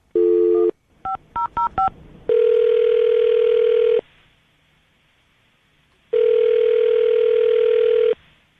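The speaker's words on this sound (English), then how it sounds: "Dial the phone right now." Landline phone being dialed: a steady dial tone, a quick run of keypad tones, then two long ringback tones separated by silence, clear and close.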